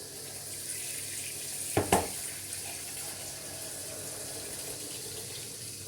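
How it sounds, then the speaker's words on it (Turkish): Tap water runs steadily into a large pot of bitter oranges being filled for jam, a constant close rush of water with a brief clunk partway through and no voices. "Üstünü geçecek kadar su dolduruyorsunuz kabınıza"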